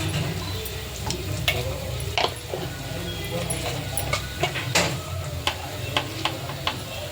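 Grated coconut frying with turmeric powder in a pan gives a steady low sizzle, broken by scattered sharp clicks and taps of a spoon against the pan.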